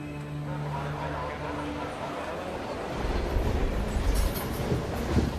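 A Mumbai commuter train rolls past, its steady rumble and rattling wheels filling the clip, with a heavier clatter and some higher screeching toward the end as the cars go by close.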